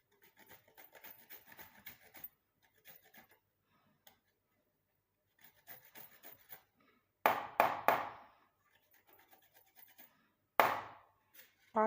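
Rhythmic scraping strokes of ginger rubbed against a grater, short rasping bursts in groups, with a few louder scrapes and quiet pauses between.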